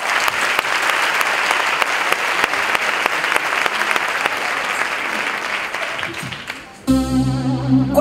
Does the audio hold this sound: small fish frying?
no